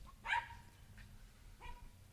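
A young puppy gives a couple of faint, brief yips or barks in the background of an indoor member meeting, with quiet room noise between.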